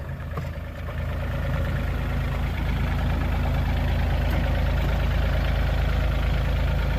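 A 2008 Yanmar C30R-2B compact excavator engine running steadily at close range, a continuous low rumbling drone that swells after a brief softer start.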